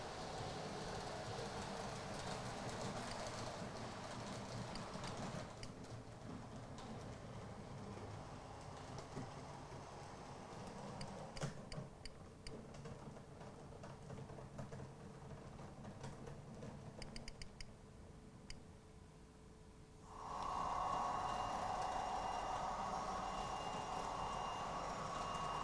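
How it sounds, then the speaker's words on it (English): A 3-car DMU running on a model railway layout gives a steady low rumble with faint ticking wheel clicks throughout, then turns louder and brighter in the last few seconds as the train draws nearer. "So here we have a 3-car DMU destined for platform 3."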